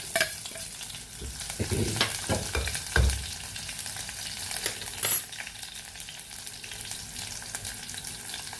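Mustard seeds crackle and splutter in hot oil, a steady close sizzle with scattered pops and a few scraping stirs.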